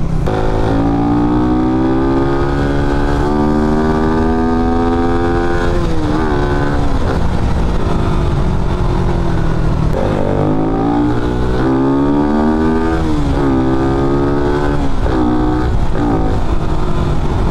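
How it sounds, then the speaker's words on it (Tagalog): Raider 150 Fi motorcycle engine with an open airbox, revving loudly and steadily up and down through repeated throttle blips, close and alone for the whole stretch. "ipaparinig ko lang talaga sa inyo mga boss yung tunog ngayon ng motor ko kapag ka naka-open airbox siya"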